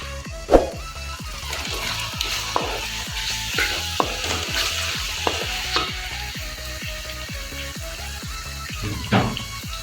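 Tomatoes go into frying onion, ginger-garlic and chilli paste for a dhaba-style daal maash, giving a low steady sizzle under a regular series of stirring scrapes and knocks, close and fairly quiet.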